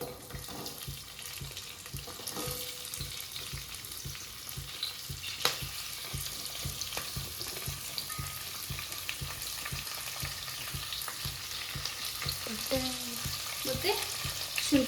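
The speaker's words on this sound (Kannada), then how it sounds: "ಇದಾದಮೇಲೆ ಮೆಣಸಿನ್ಕಾಯಿ ಸ್ವಲ್ಪ ಹುಷಾರಾಗಿ ಹಾಕಿ, ಮೆಣಸಿನ್ಕಾಯಿ ಸಿಡಿಯುತ್ತೆ." Green chillies and onion frying in a pan for chicken chops, a steady close sizzle and crackle with occasional stirring scrapes and clinks throughout, no voices.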